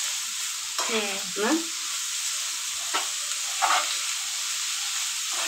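Mustard paste goes into a hot pan and sizzles hard, a loud steady frying hiss with a few stirring scrapes and a short spoken word over it.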